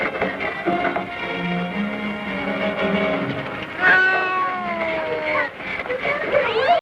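A cat meowing in the horror film The Corpse Grinders, several drawn-out wailing cries that rise and fall, mixed with a voice and other film sound.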